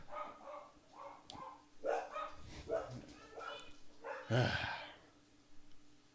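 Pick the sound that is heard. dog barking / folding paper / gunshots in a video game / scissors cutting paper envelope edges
dog barking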